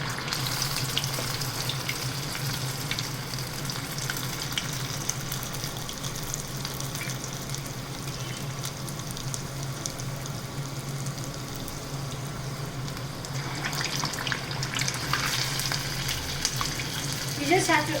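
Medu vada batter rings sliding into hot oil and frying, a steady close crackling sizzle lasting throughout, with some louder bubbling and spattering toward the end.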